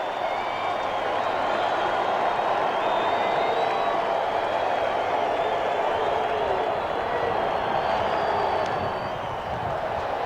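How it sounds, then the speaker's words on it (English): Stadium crowd at a 1991 Expos–Mets baseball game cheers and applauds steadily as fans rise for a two-strike count, a sustained distant roar with clapping, while a broadcaster's voice speaks over it. "And the crowd on their feet."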